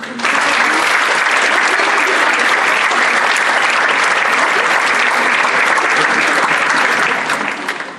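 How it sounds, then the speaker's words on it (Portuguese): An award ceremony audience claps in a dense, steady wave of applause that fills the room, loud and sustained for several seconds before easing off at the end. "peço também uma salva de palmas para eles"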